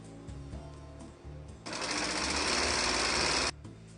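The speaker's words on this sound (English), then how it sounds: "And to do that, I sew right sides facing." A sewing machine stitching a reversible hooded blanket with the right sides facing. A quieter mechanical hum comes first, then a loud, fast, steady run of stitching for about two seconds, which stops abruptly.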